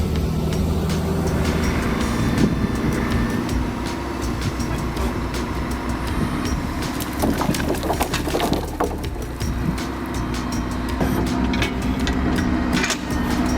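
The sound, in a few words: Mercedes Actros truck engine hauling wood on rough terrain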